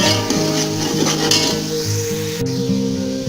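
Rice and peas roasting in a pot for matar pulao bring close metallic stirring and scraping over a light sizzle, with some clattery strokes and no voices.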